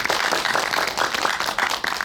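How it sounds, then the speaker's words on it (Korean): An audience applauds at a cinema talk event at CGV Apgujeong, with dense, steady clapping from a full room that stays loud and even throughout. "박수 부탁드립니다."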